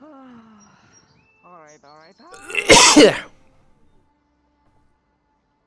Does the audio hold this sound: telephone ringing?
no